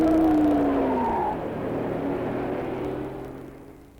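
A 1963 Chevy II car cruises at 45 miles an hour, a steady road and engine drone with a tone that slides downward early on, heard alone without talk.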